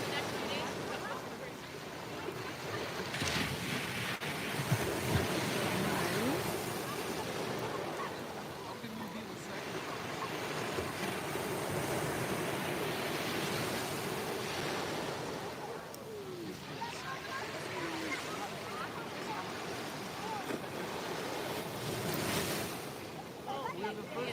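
Ocean surf washing onto a crowded beach at sunset, a steady broad roar of breaking waves with wind buffeting the microphone, while people talk nearby.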